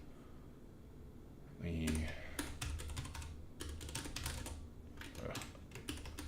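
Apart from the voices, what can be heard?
typing a password on a computer keyboard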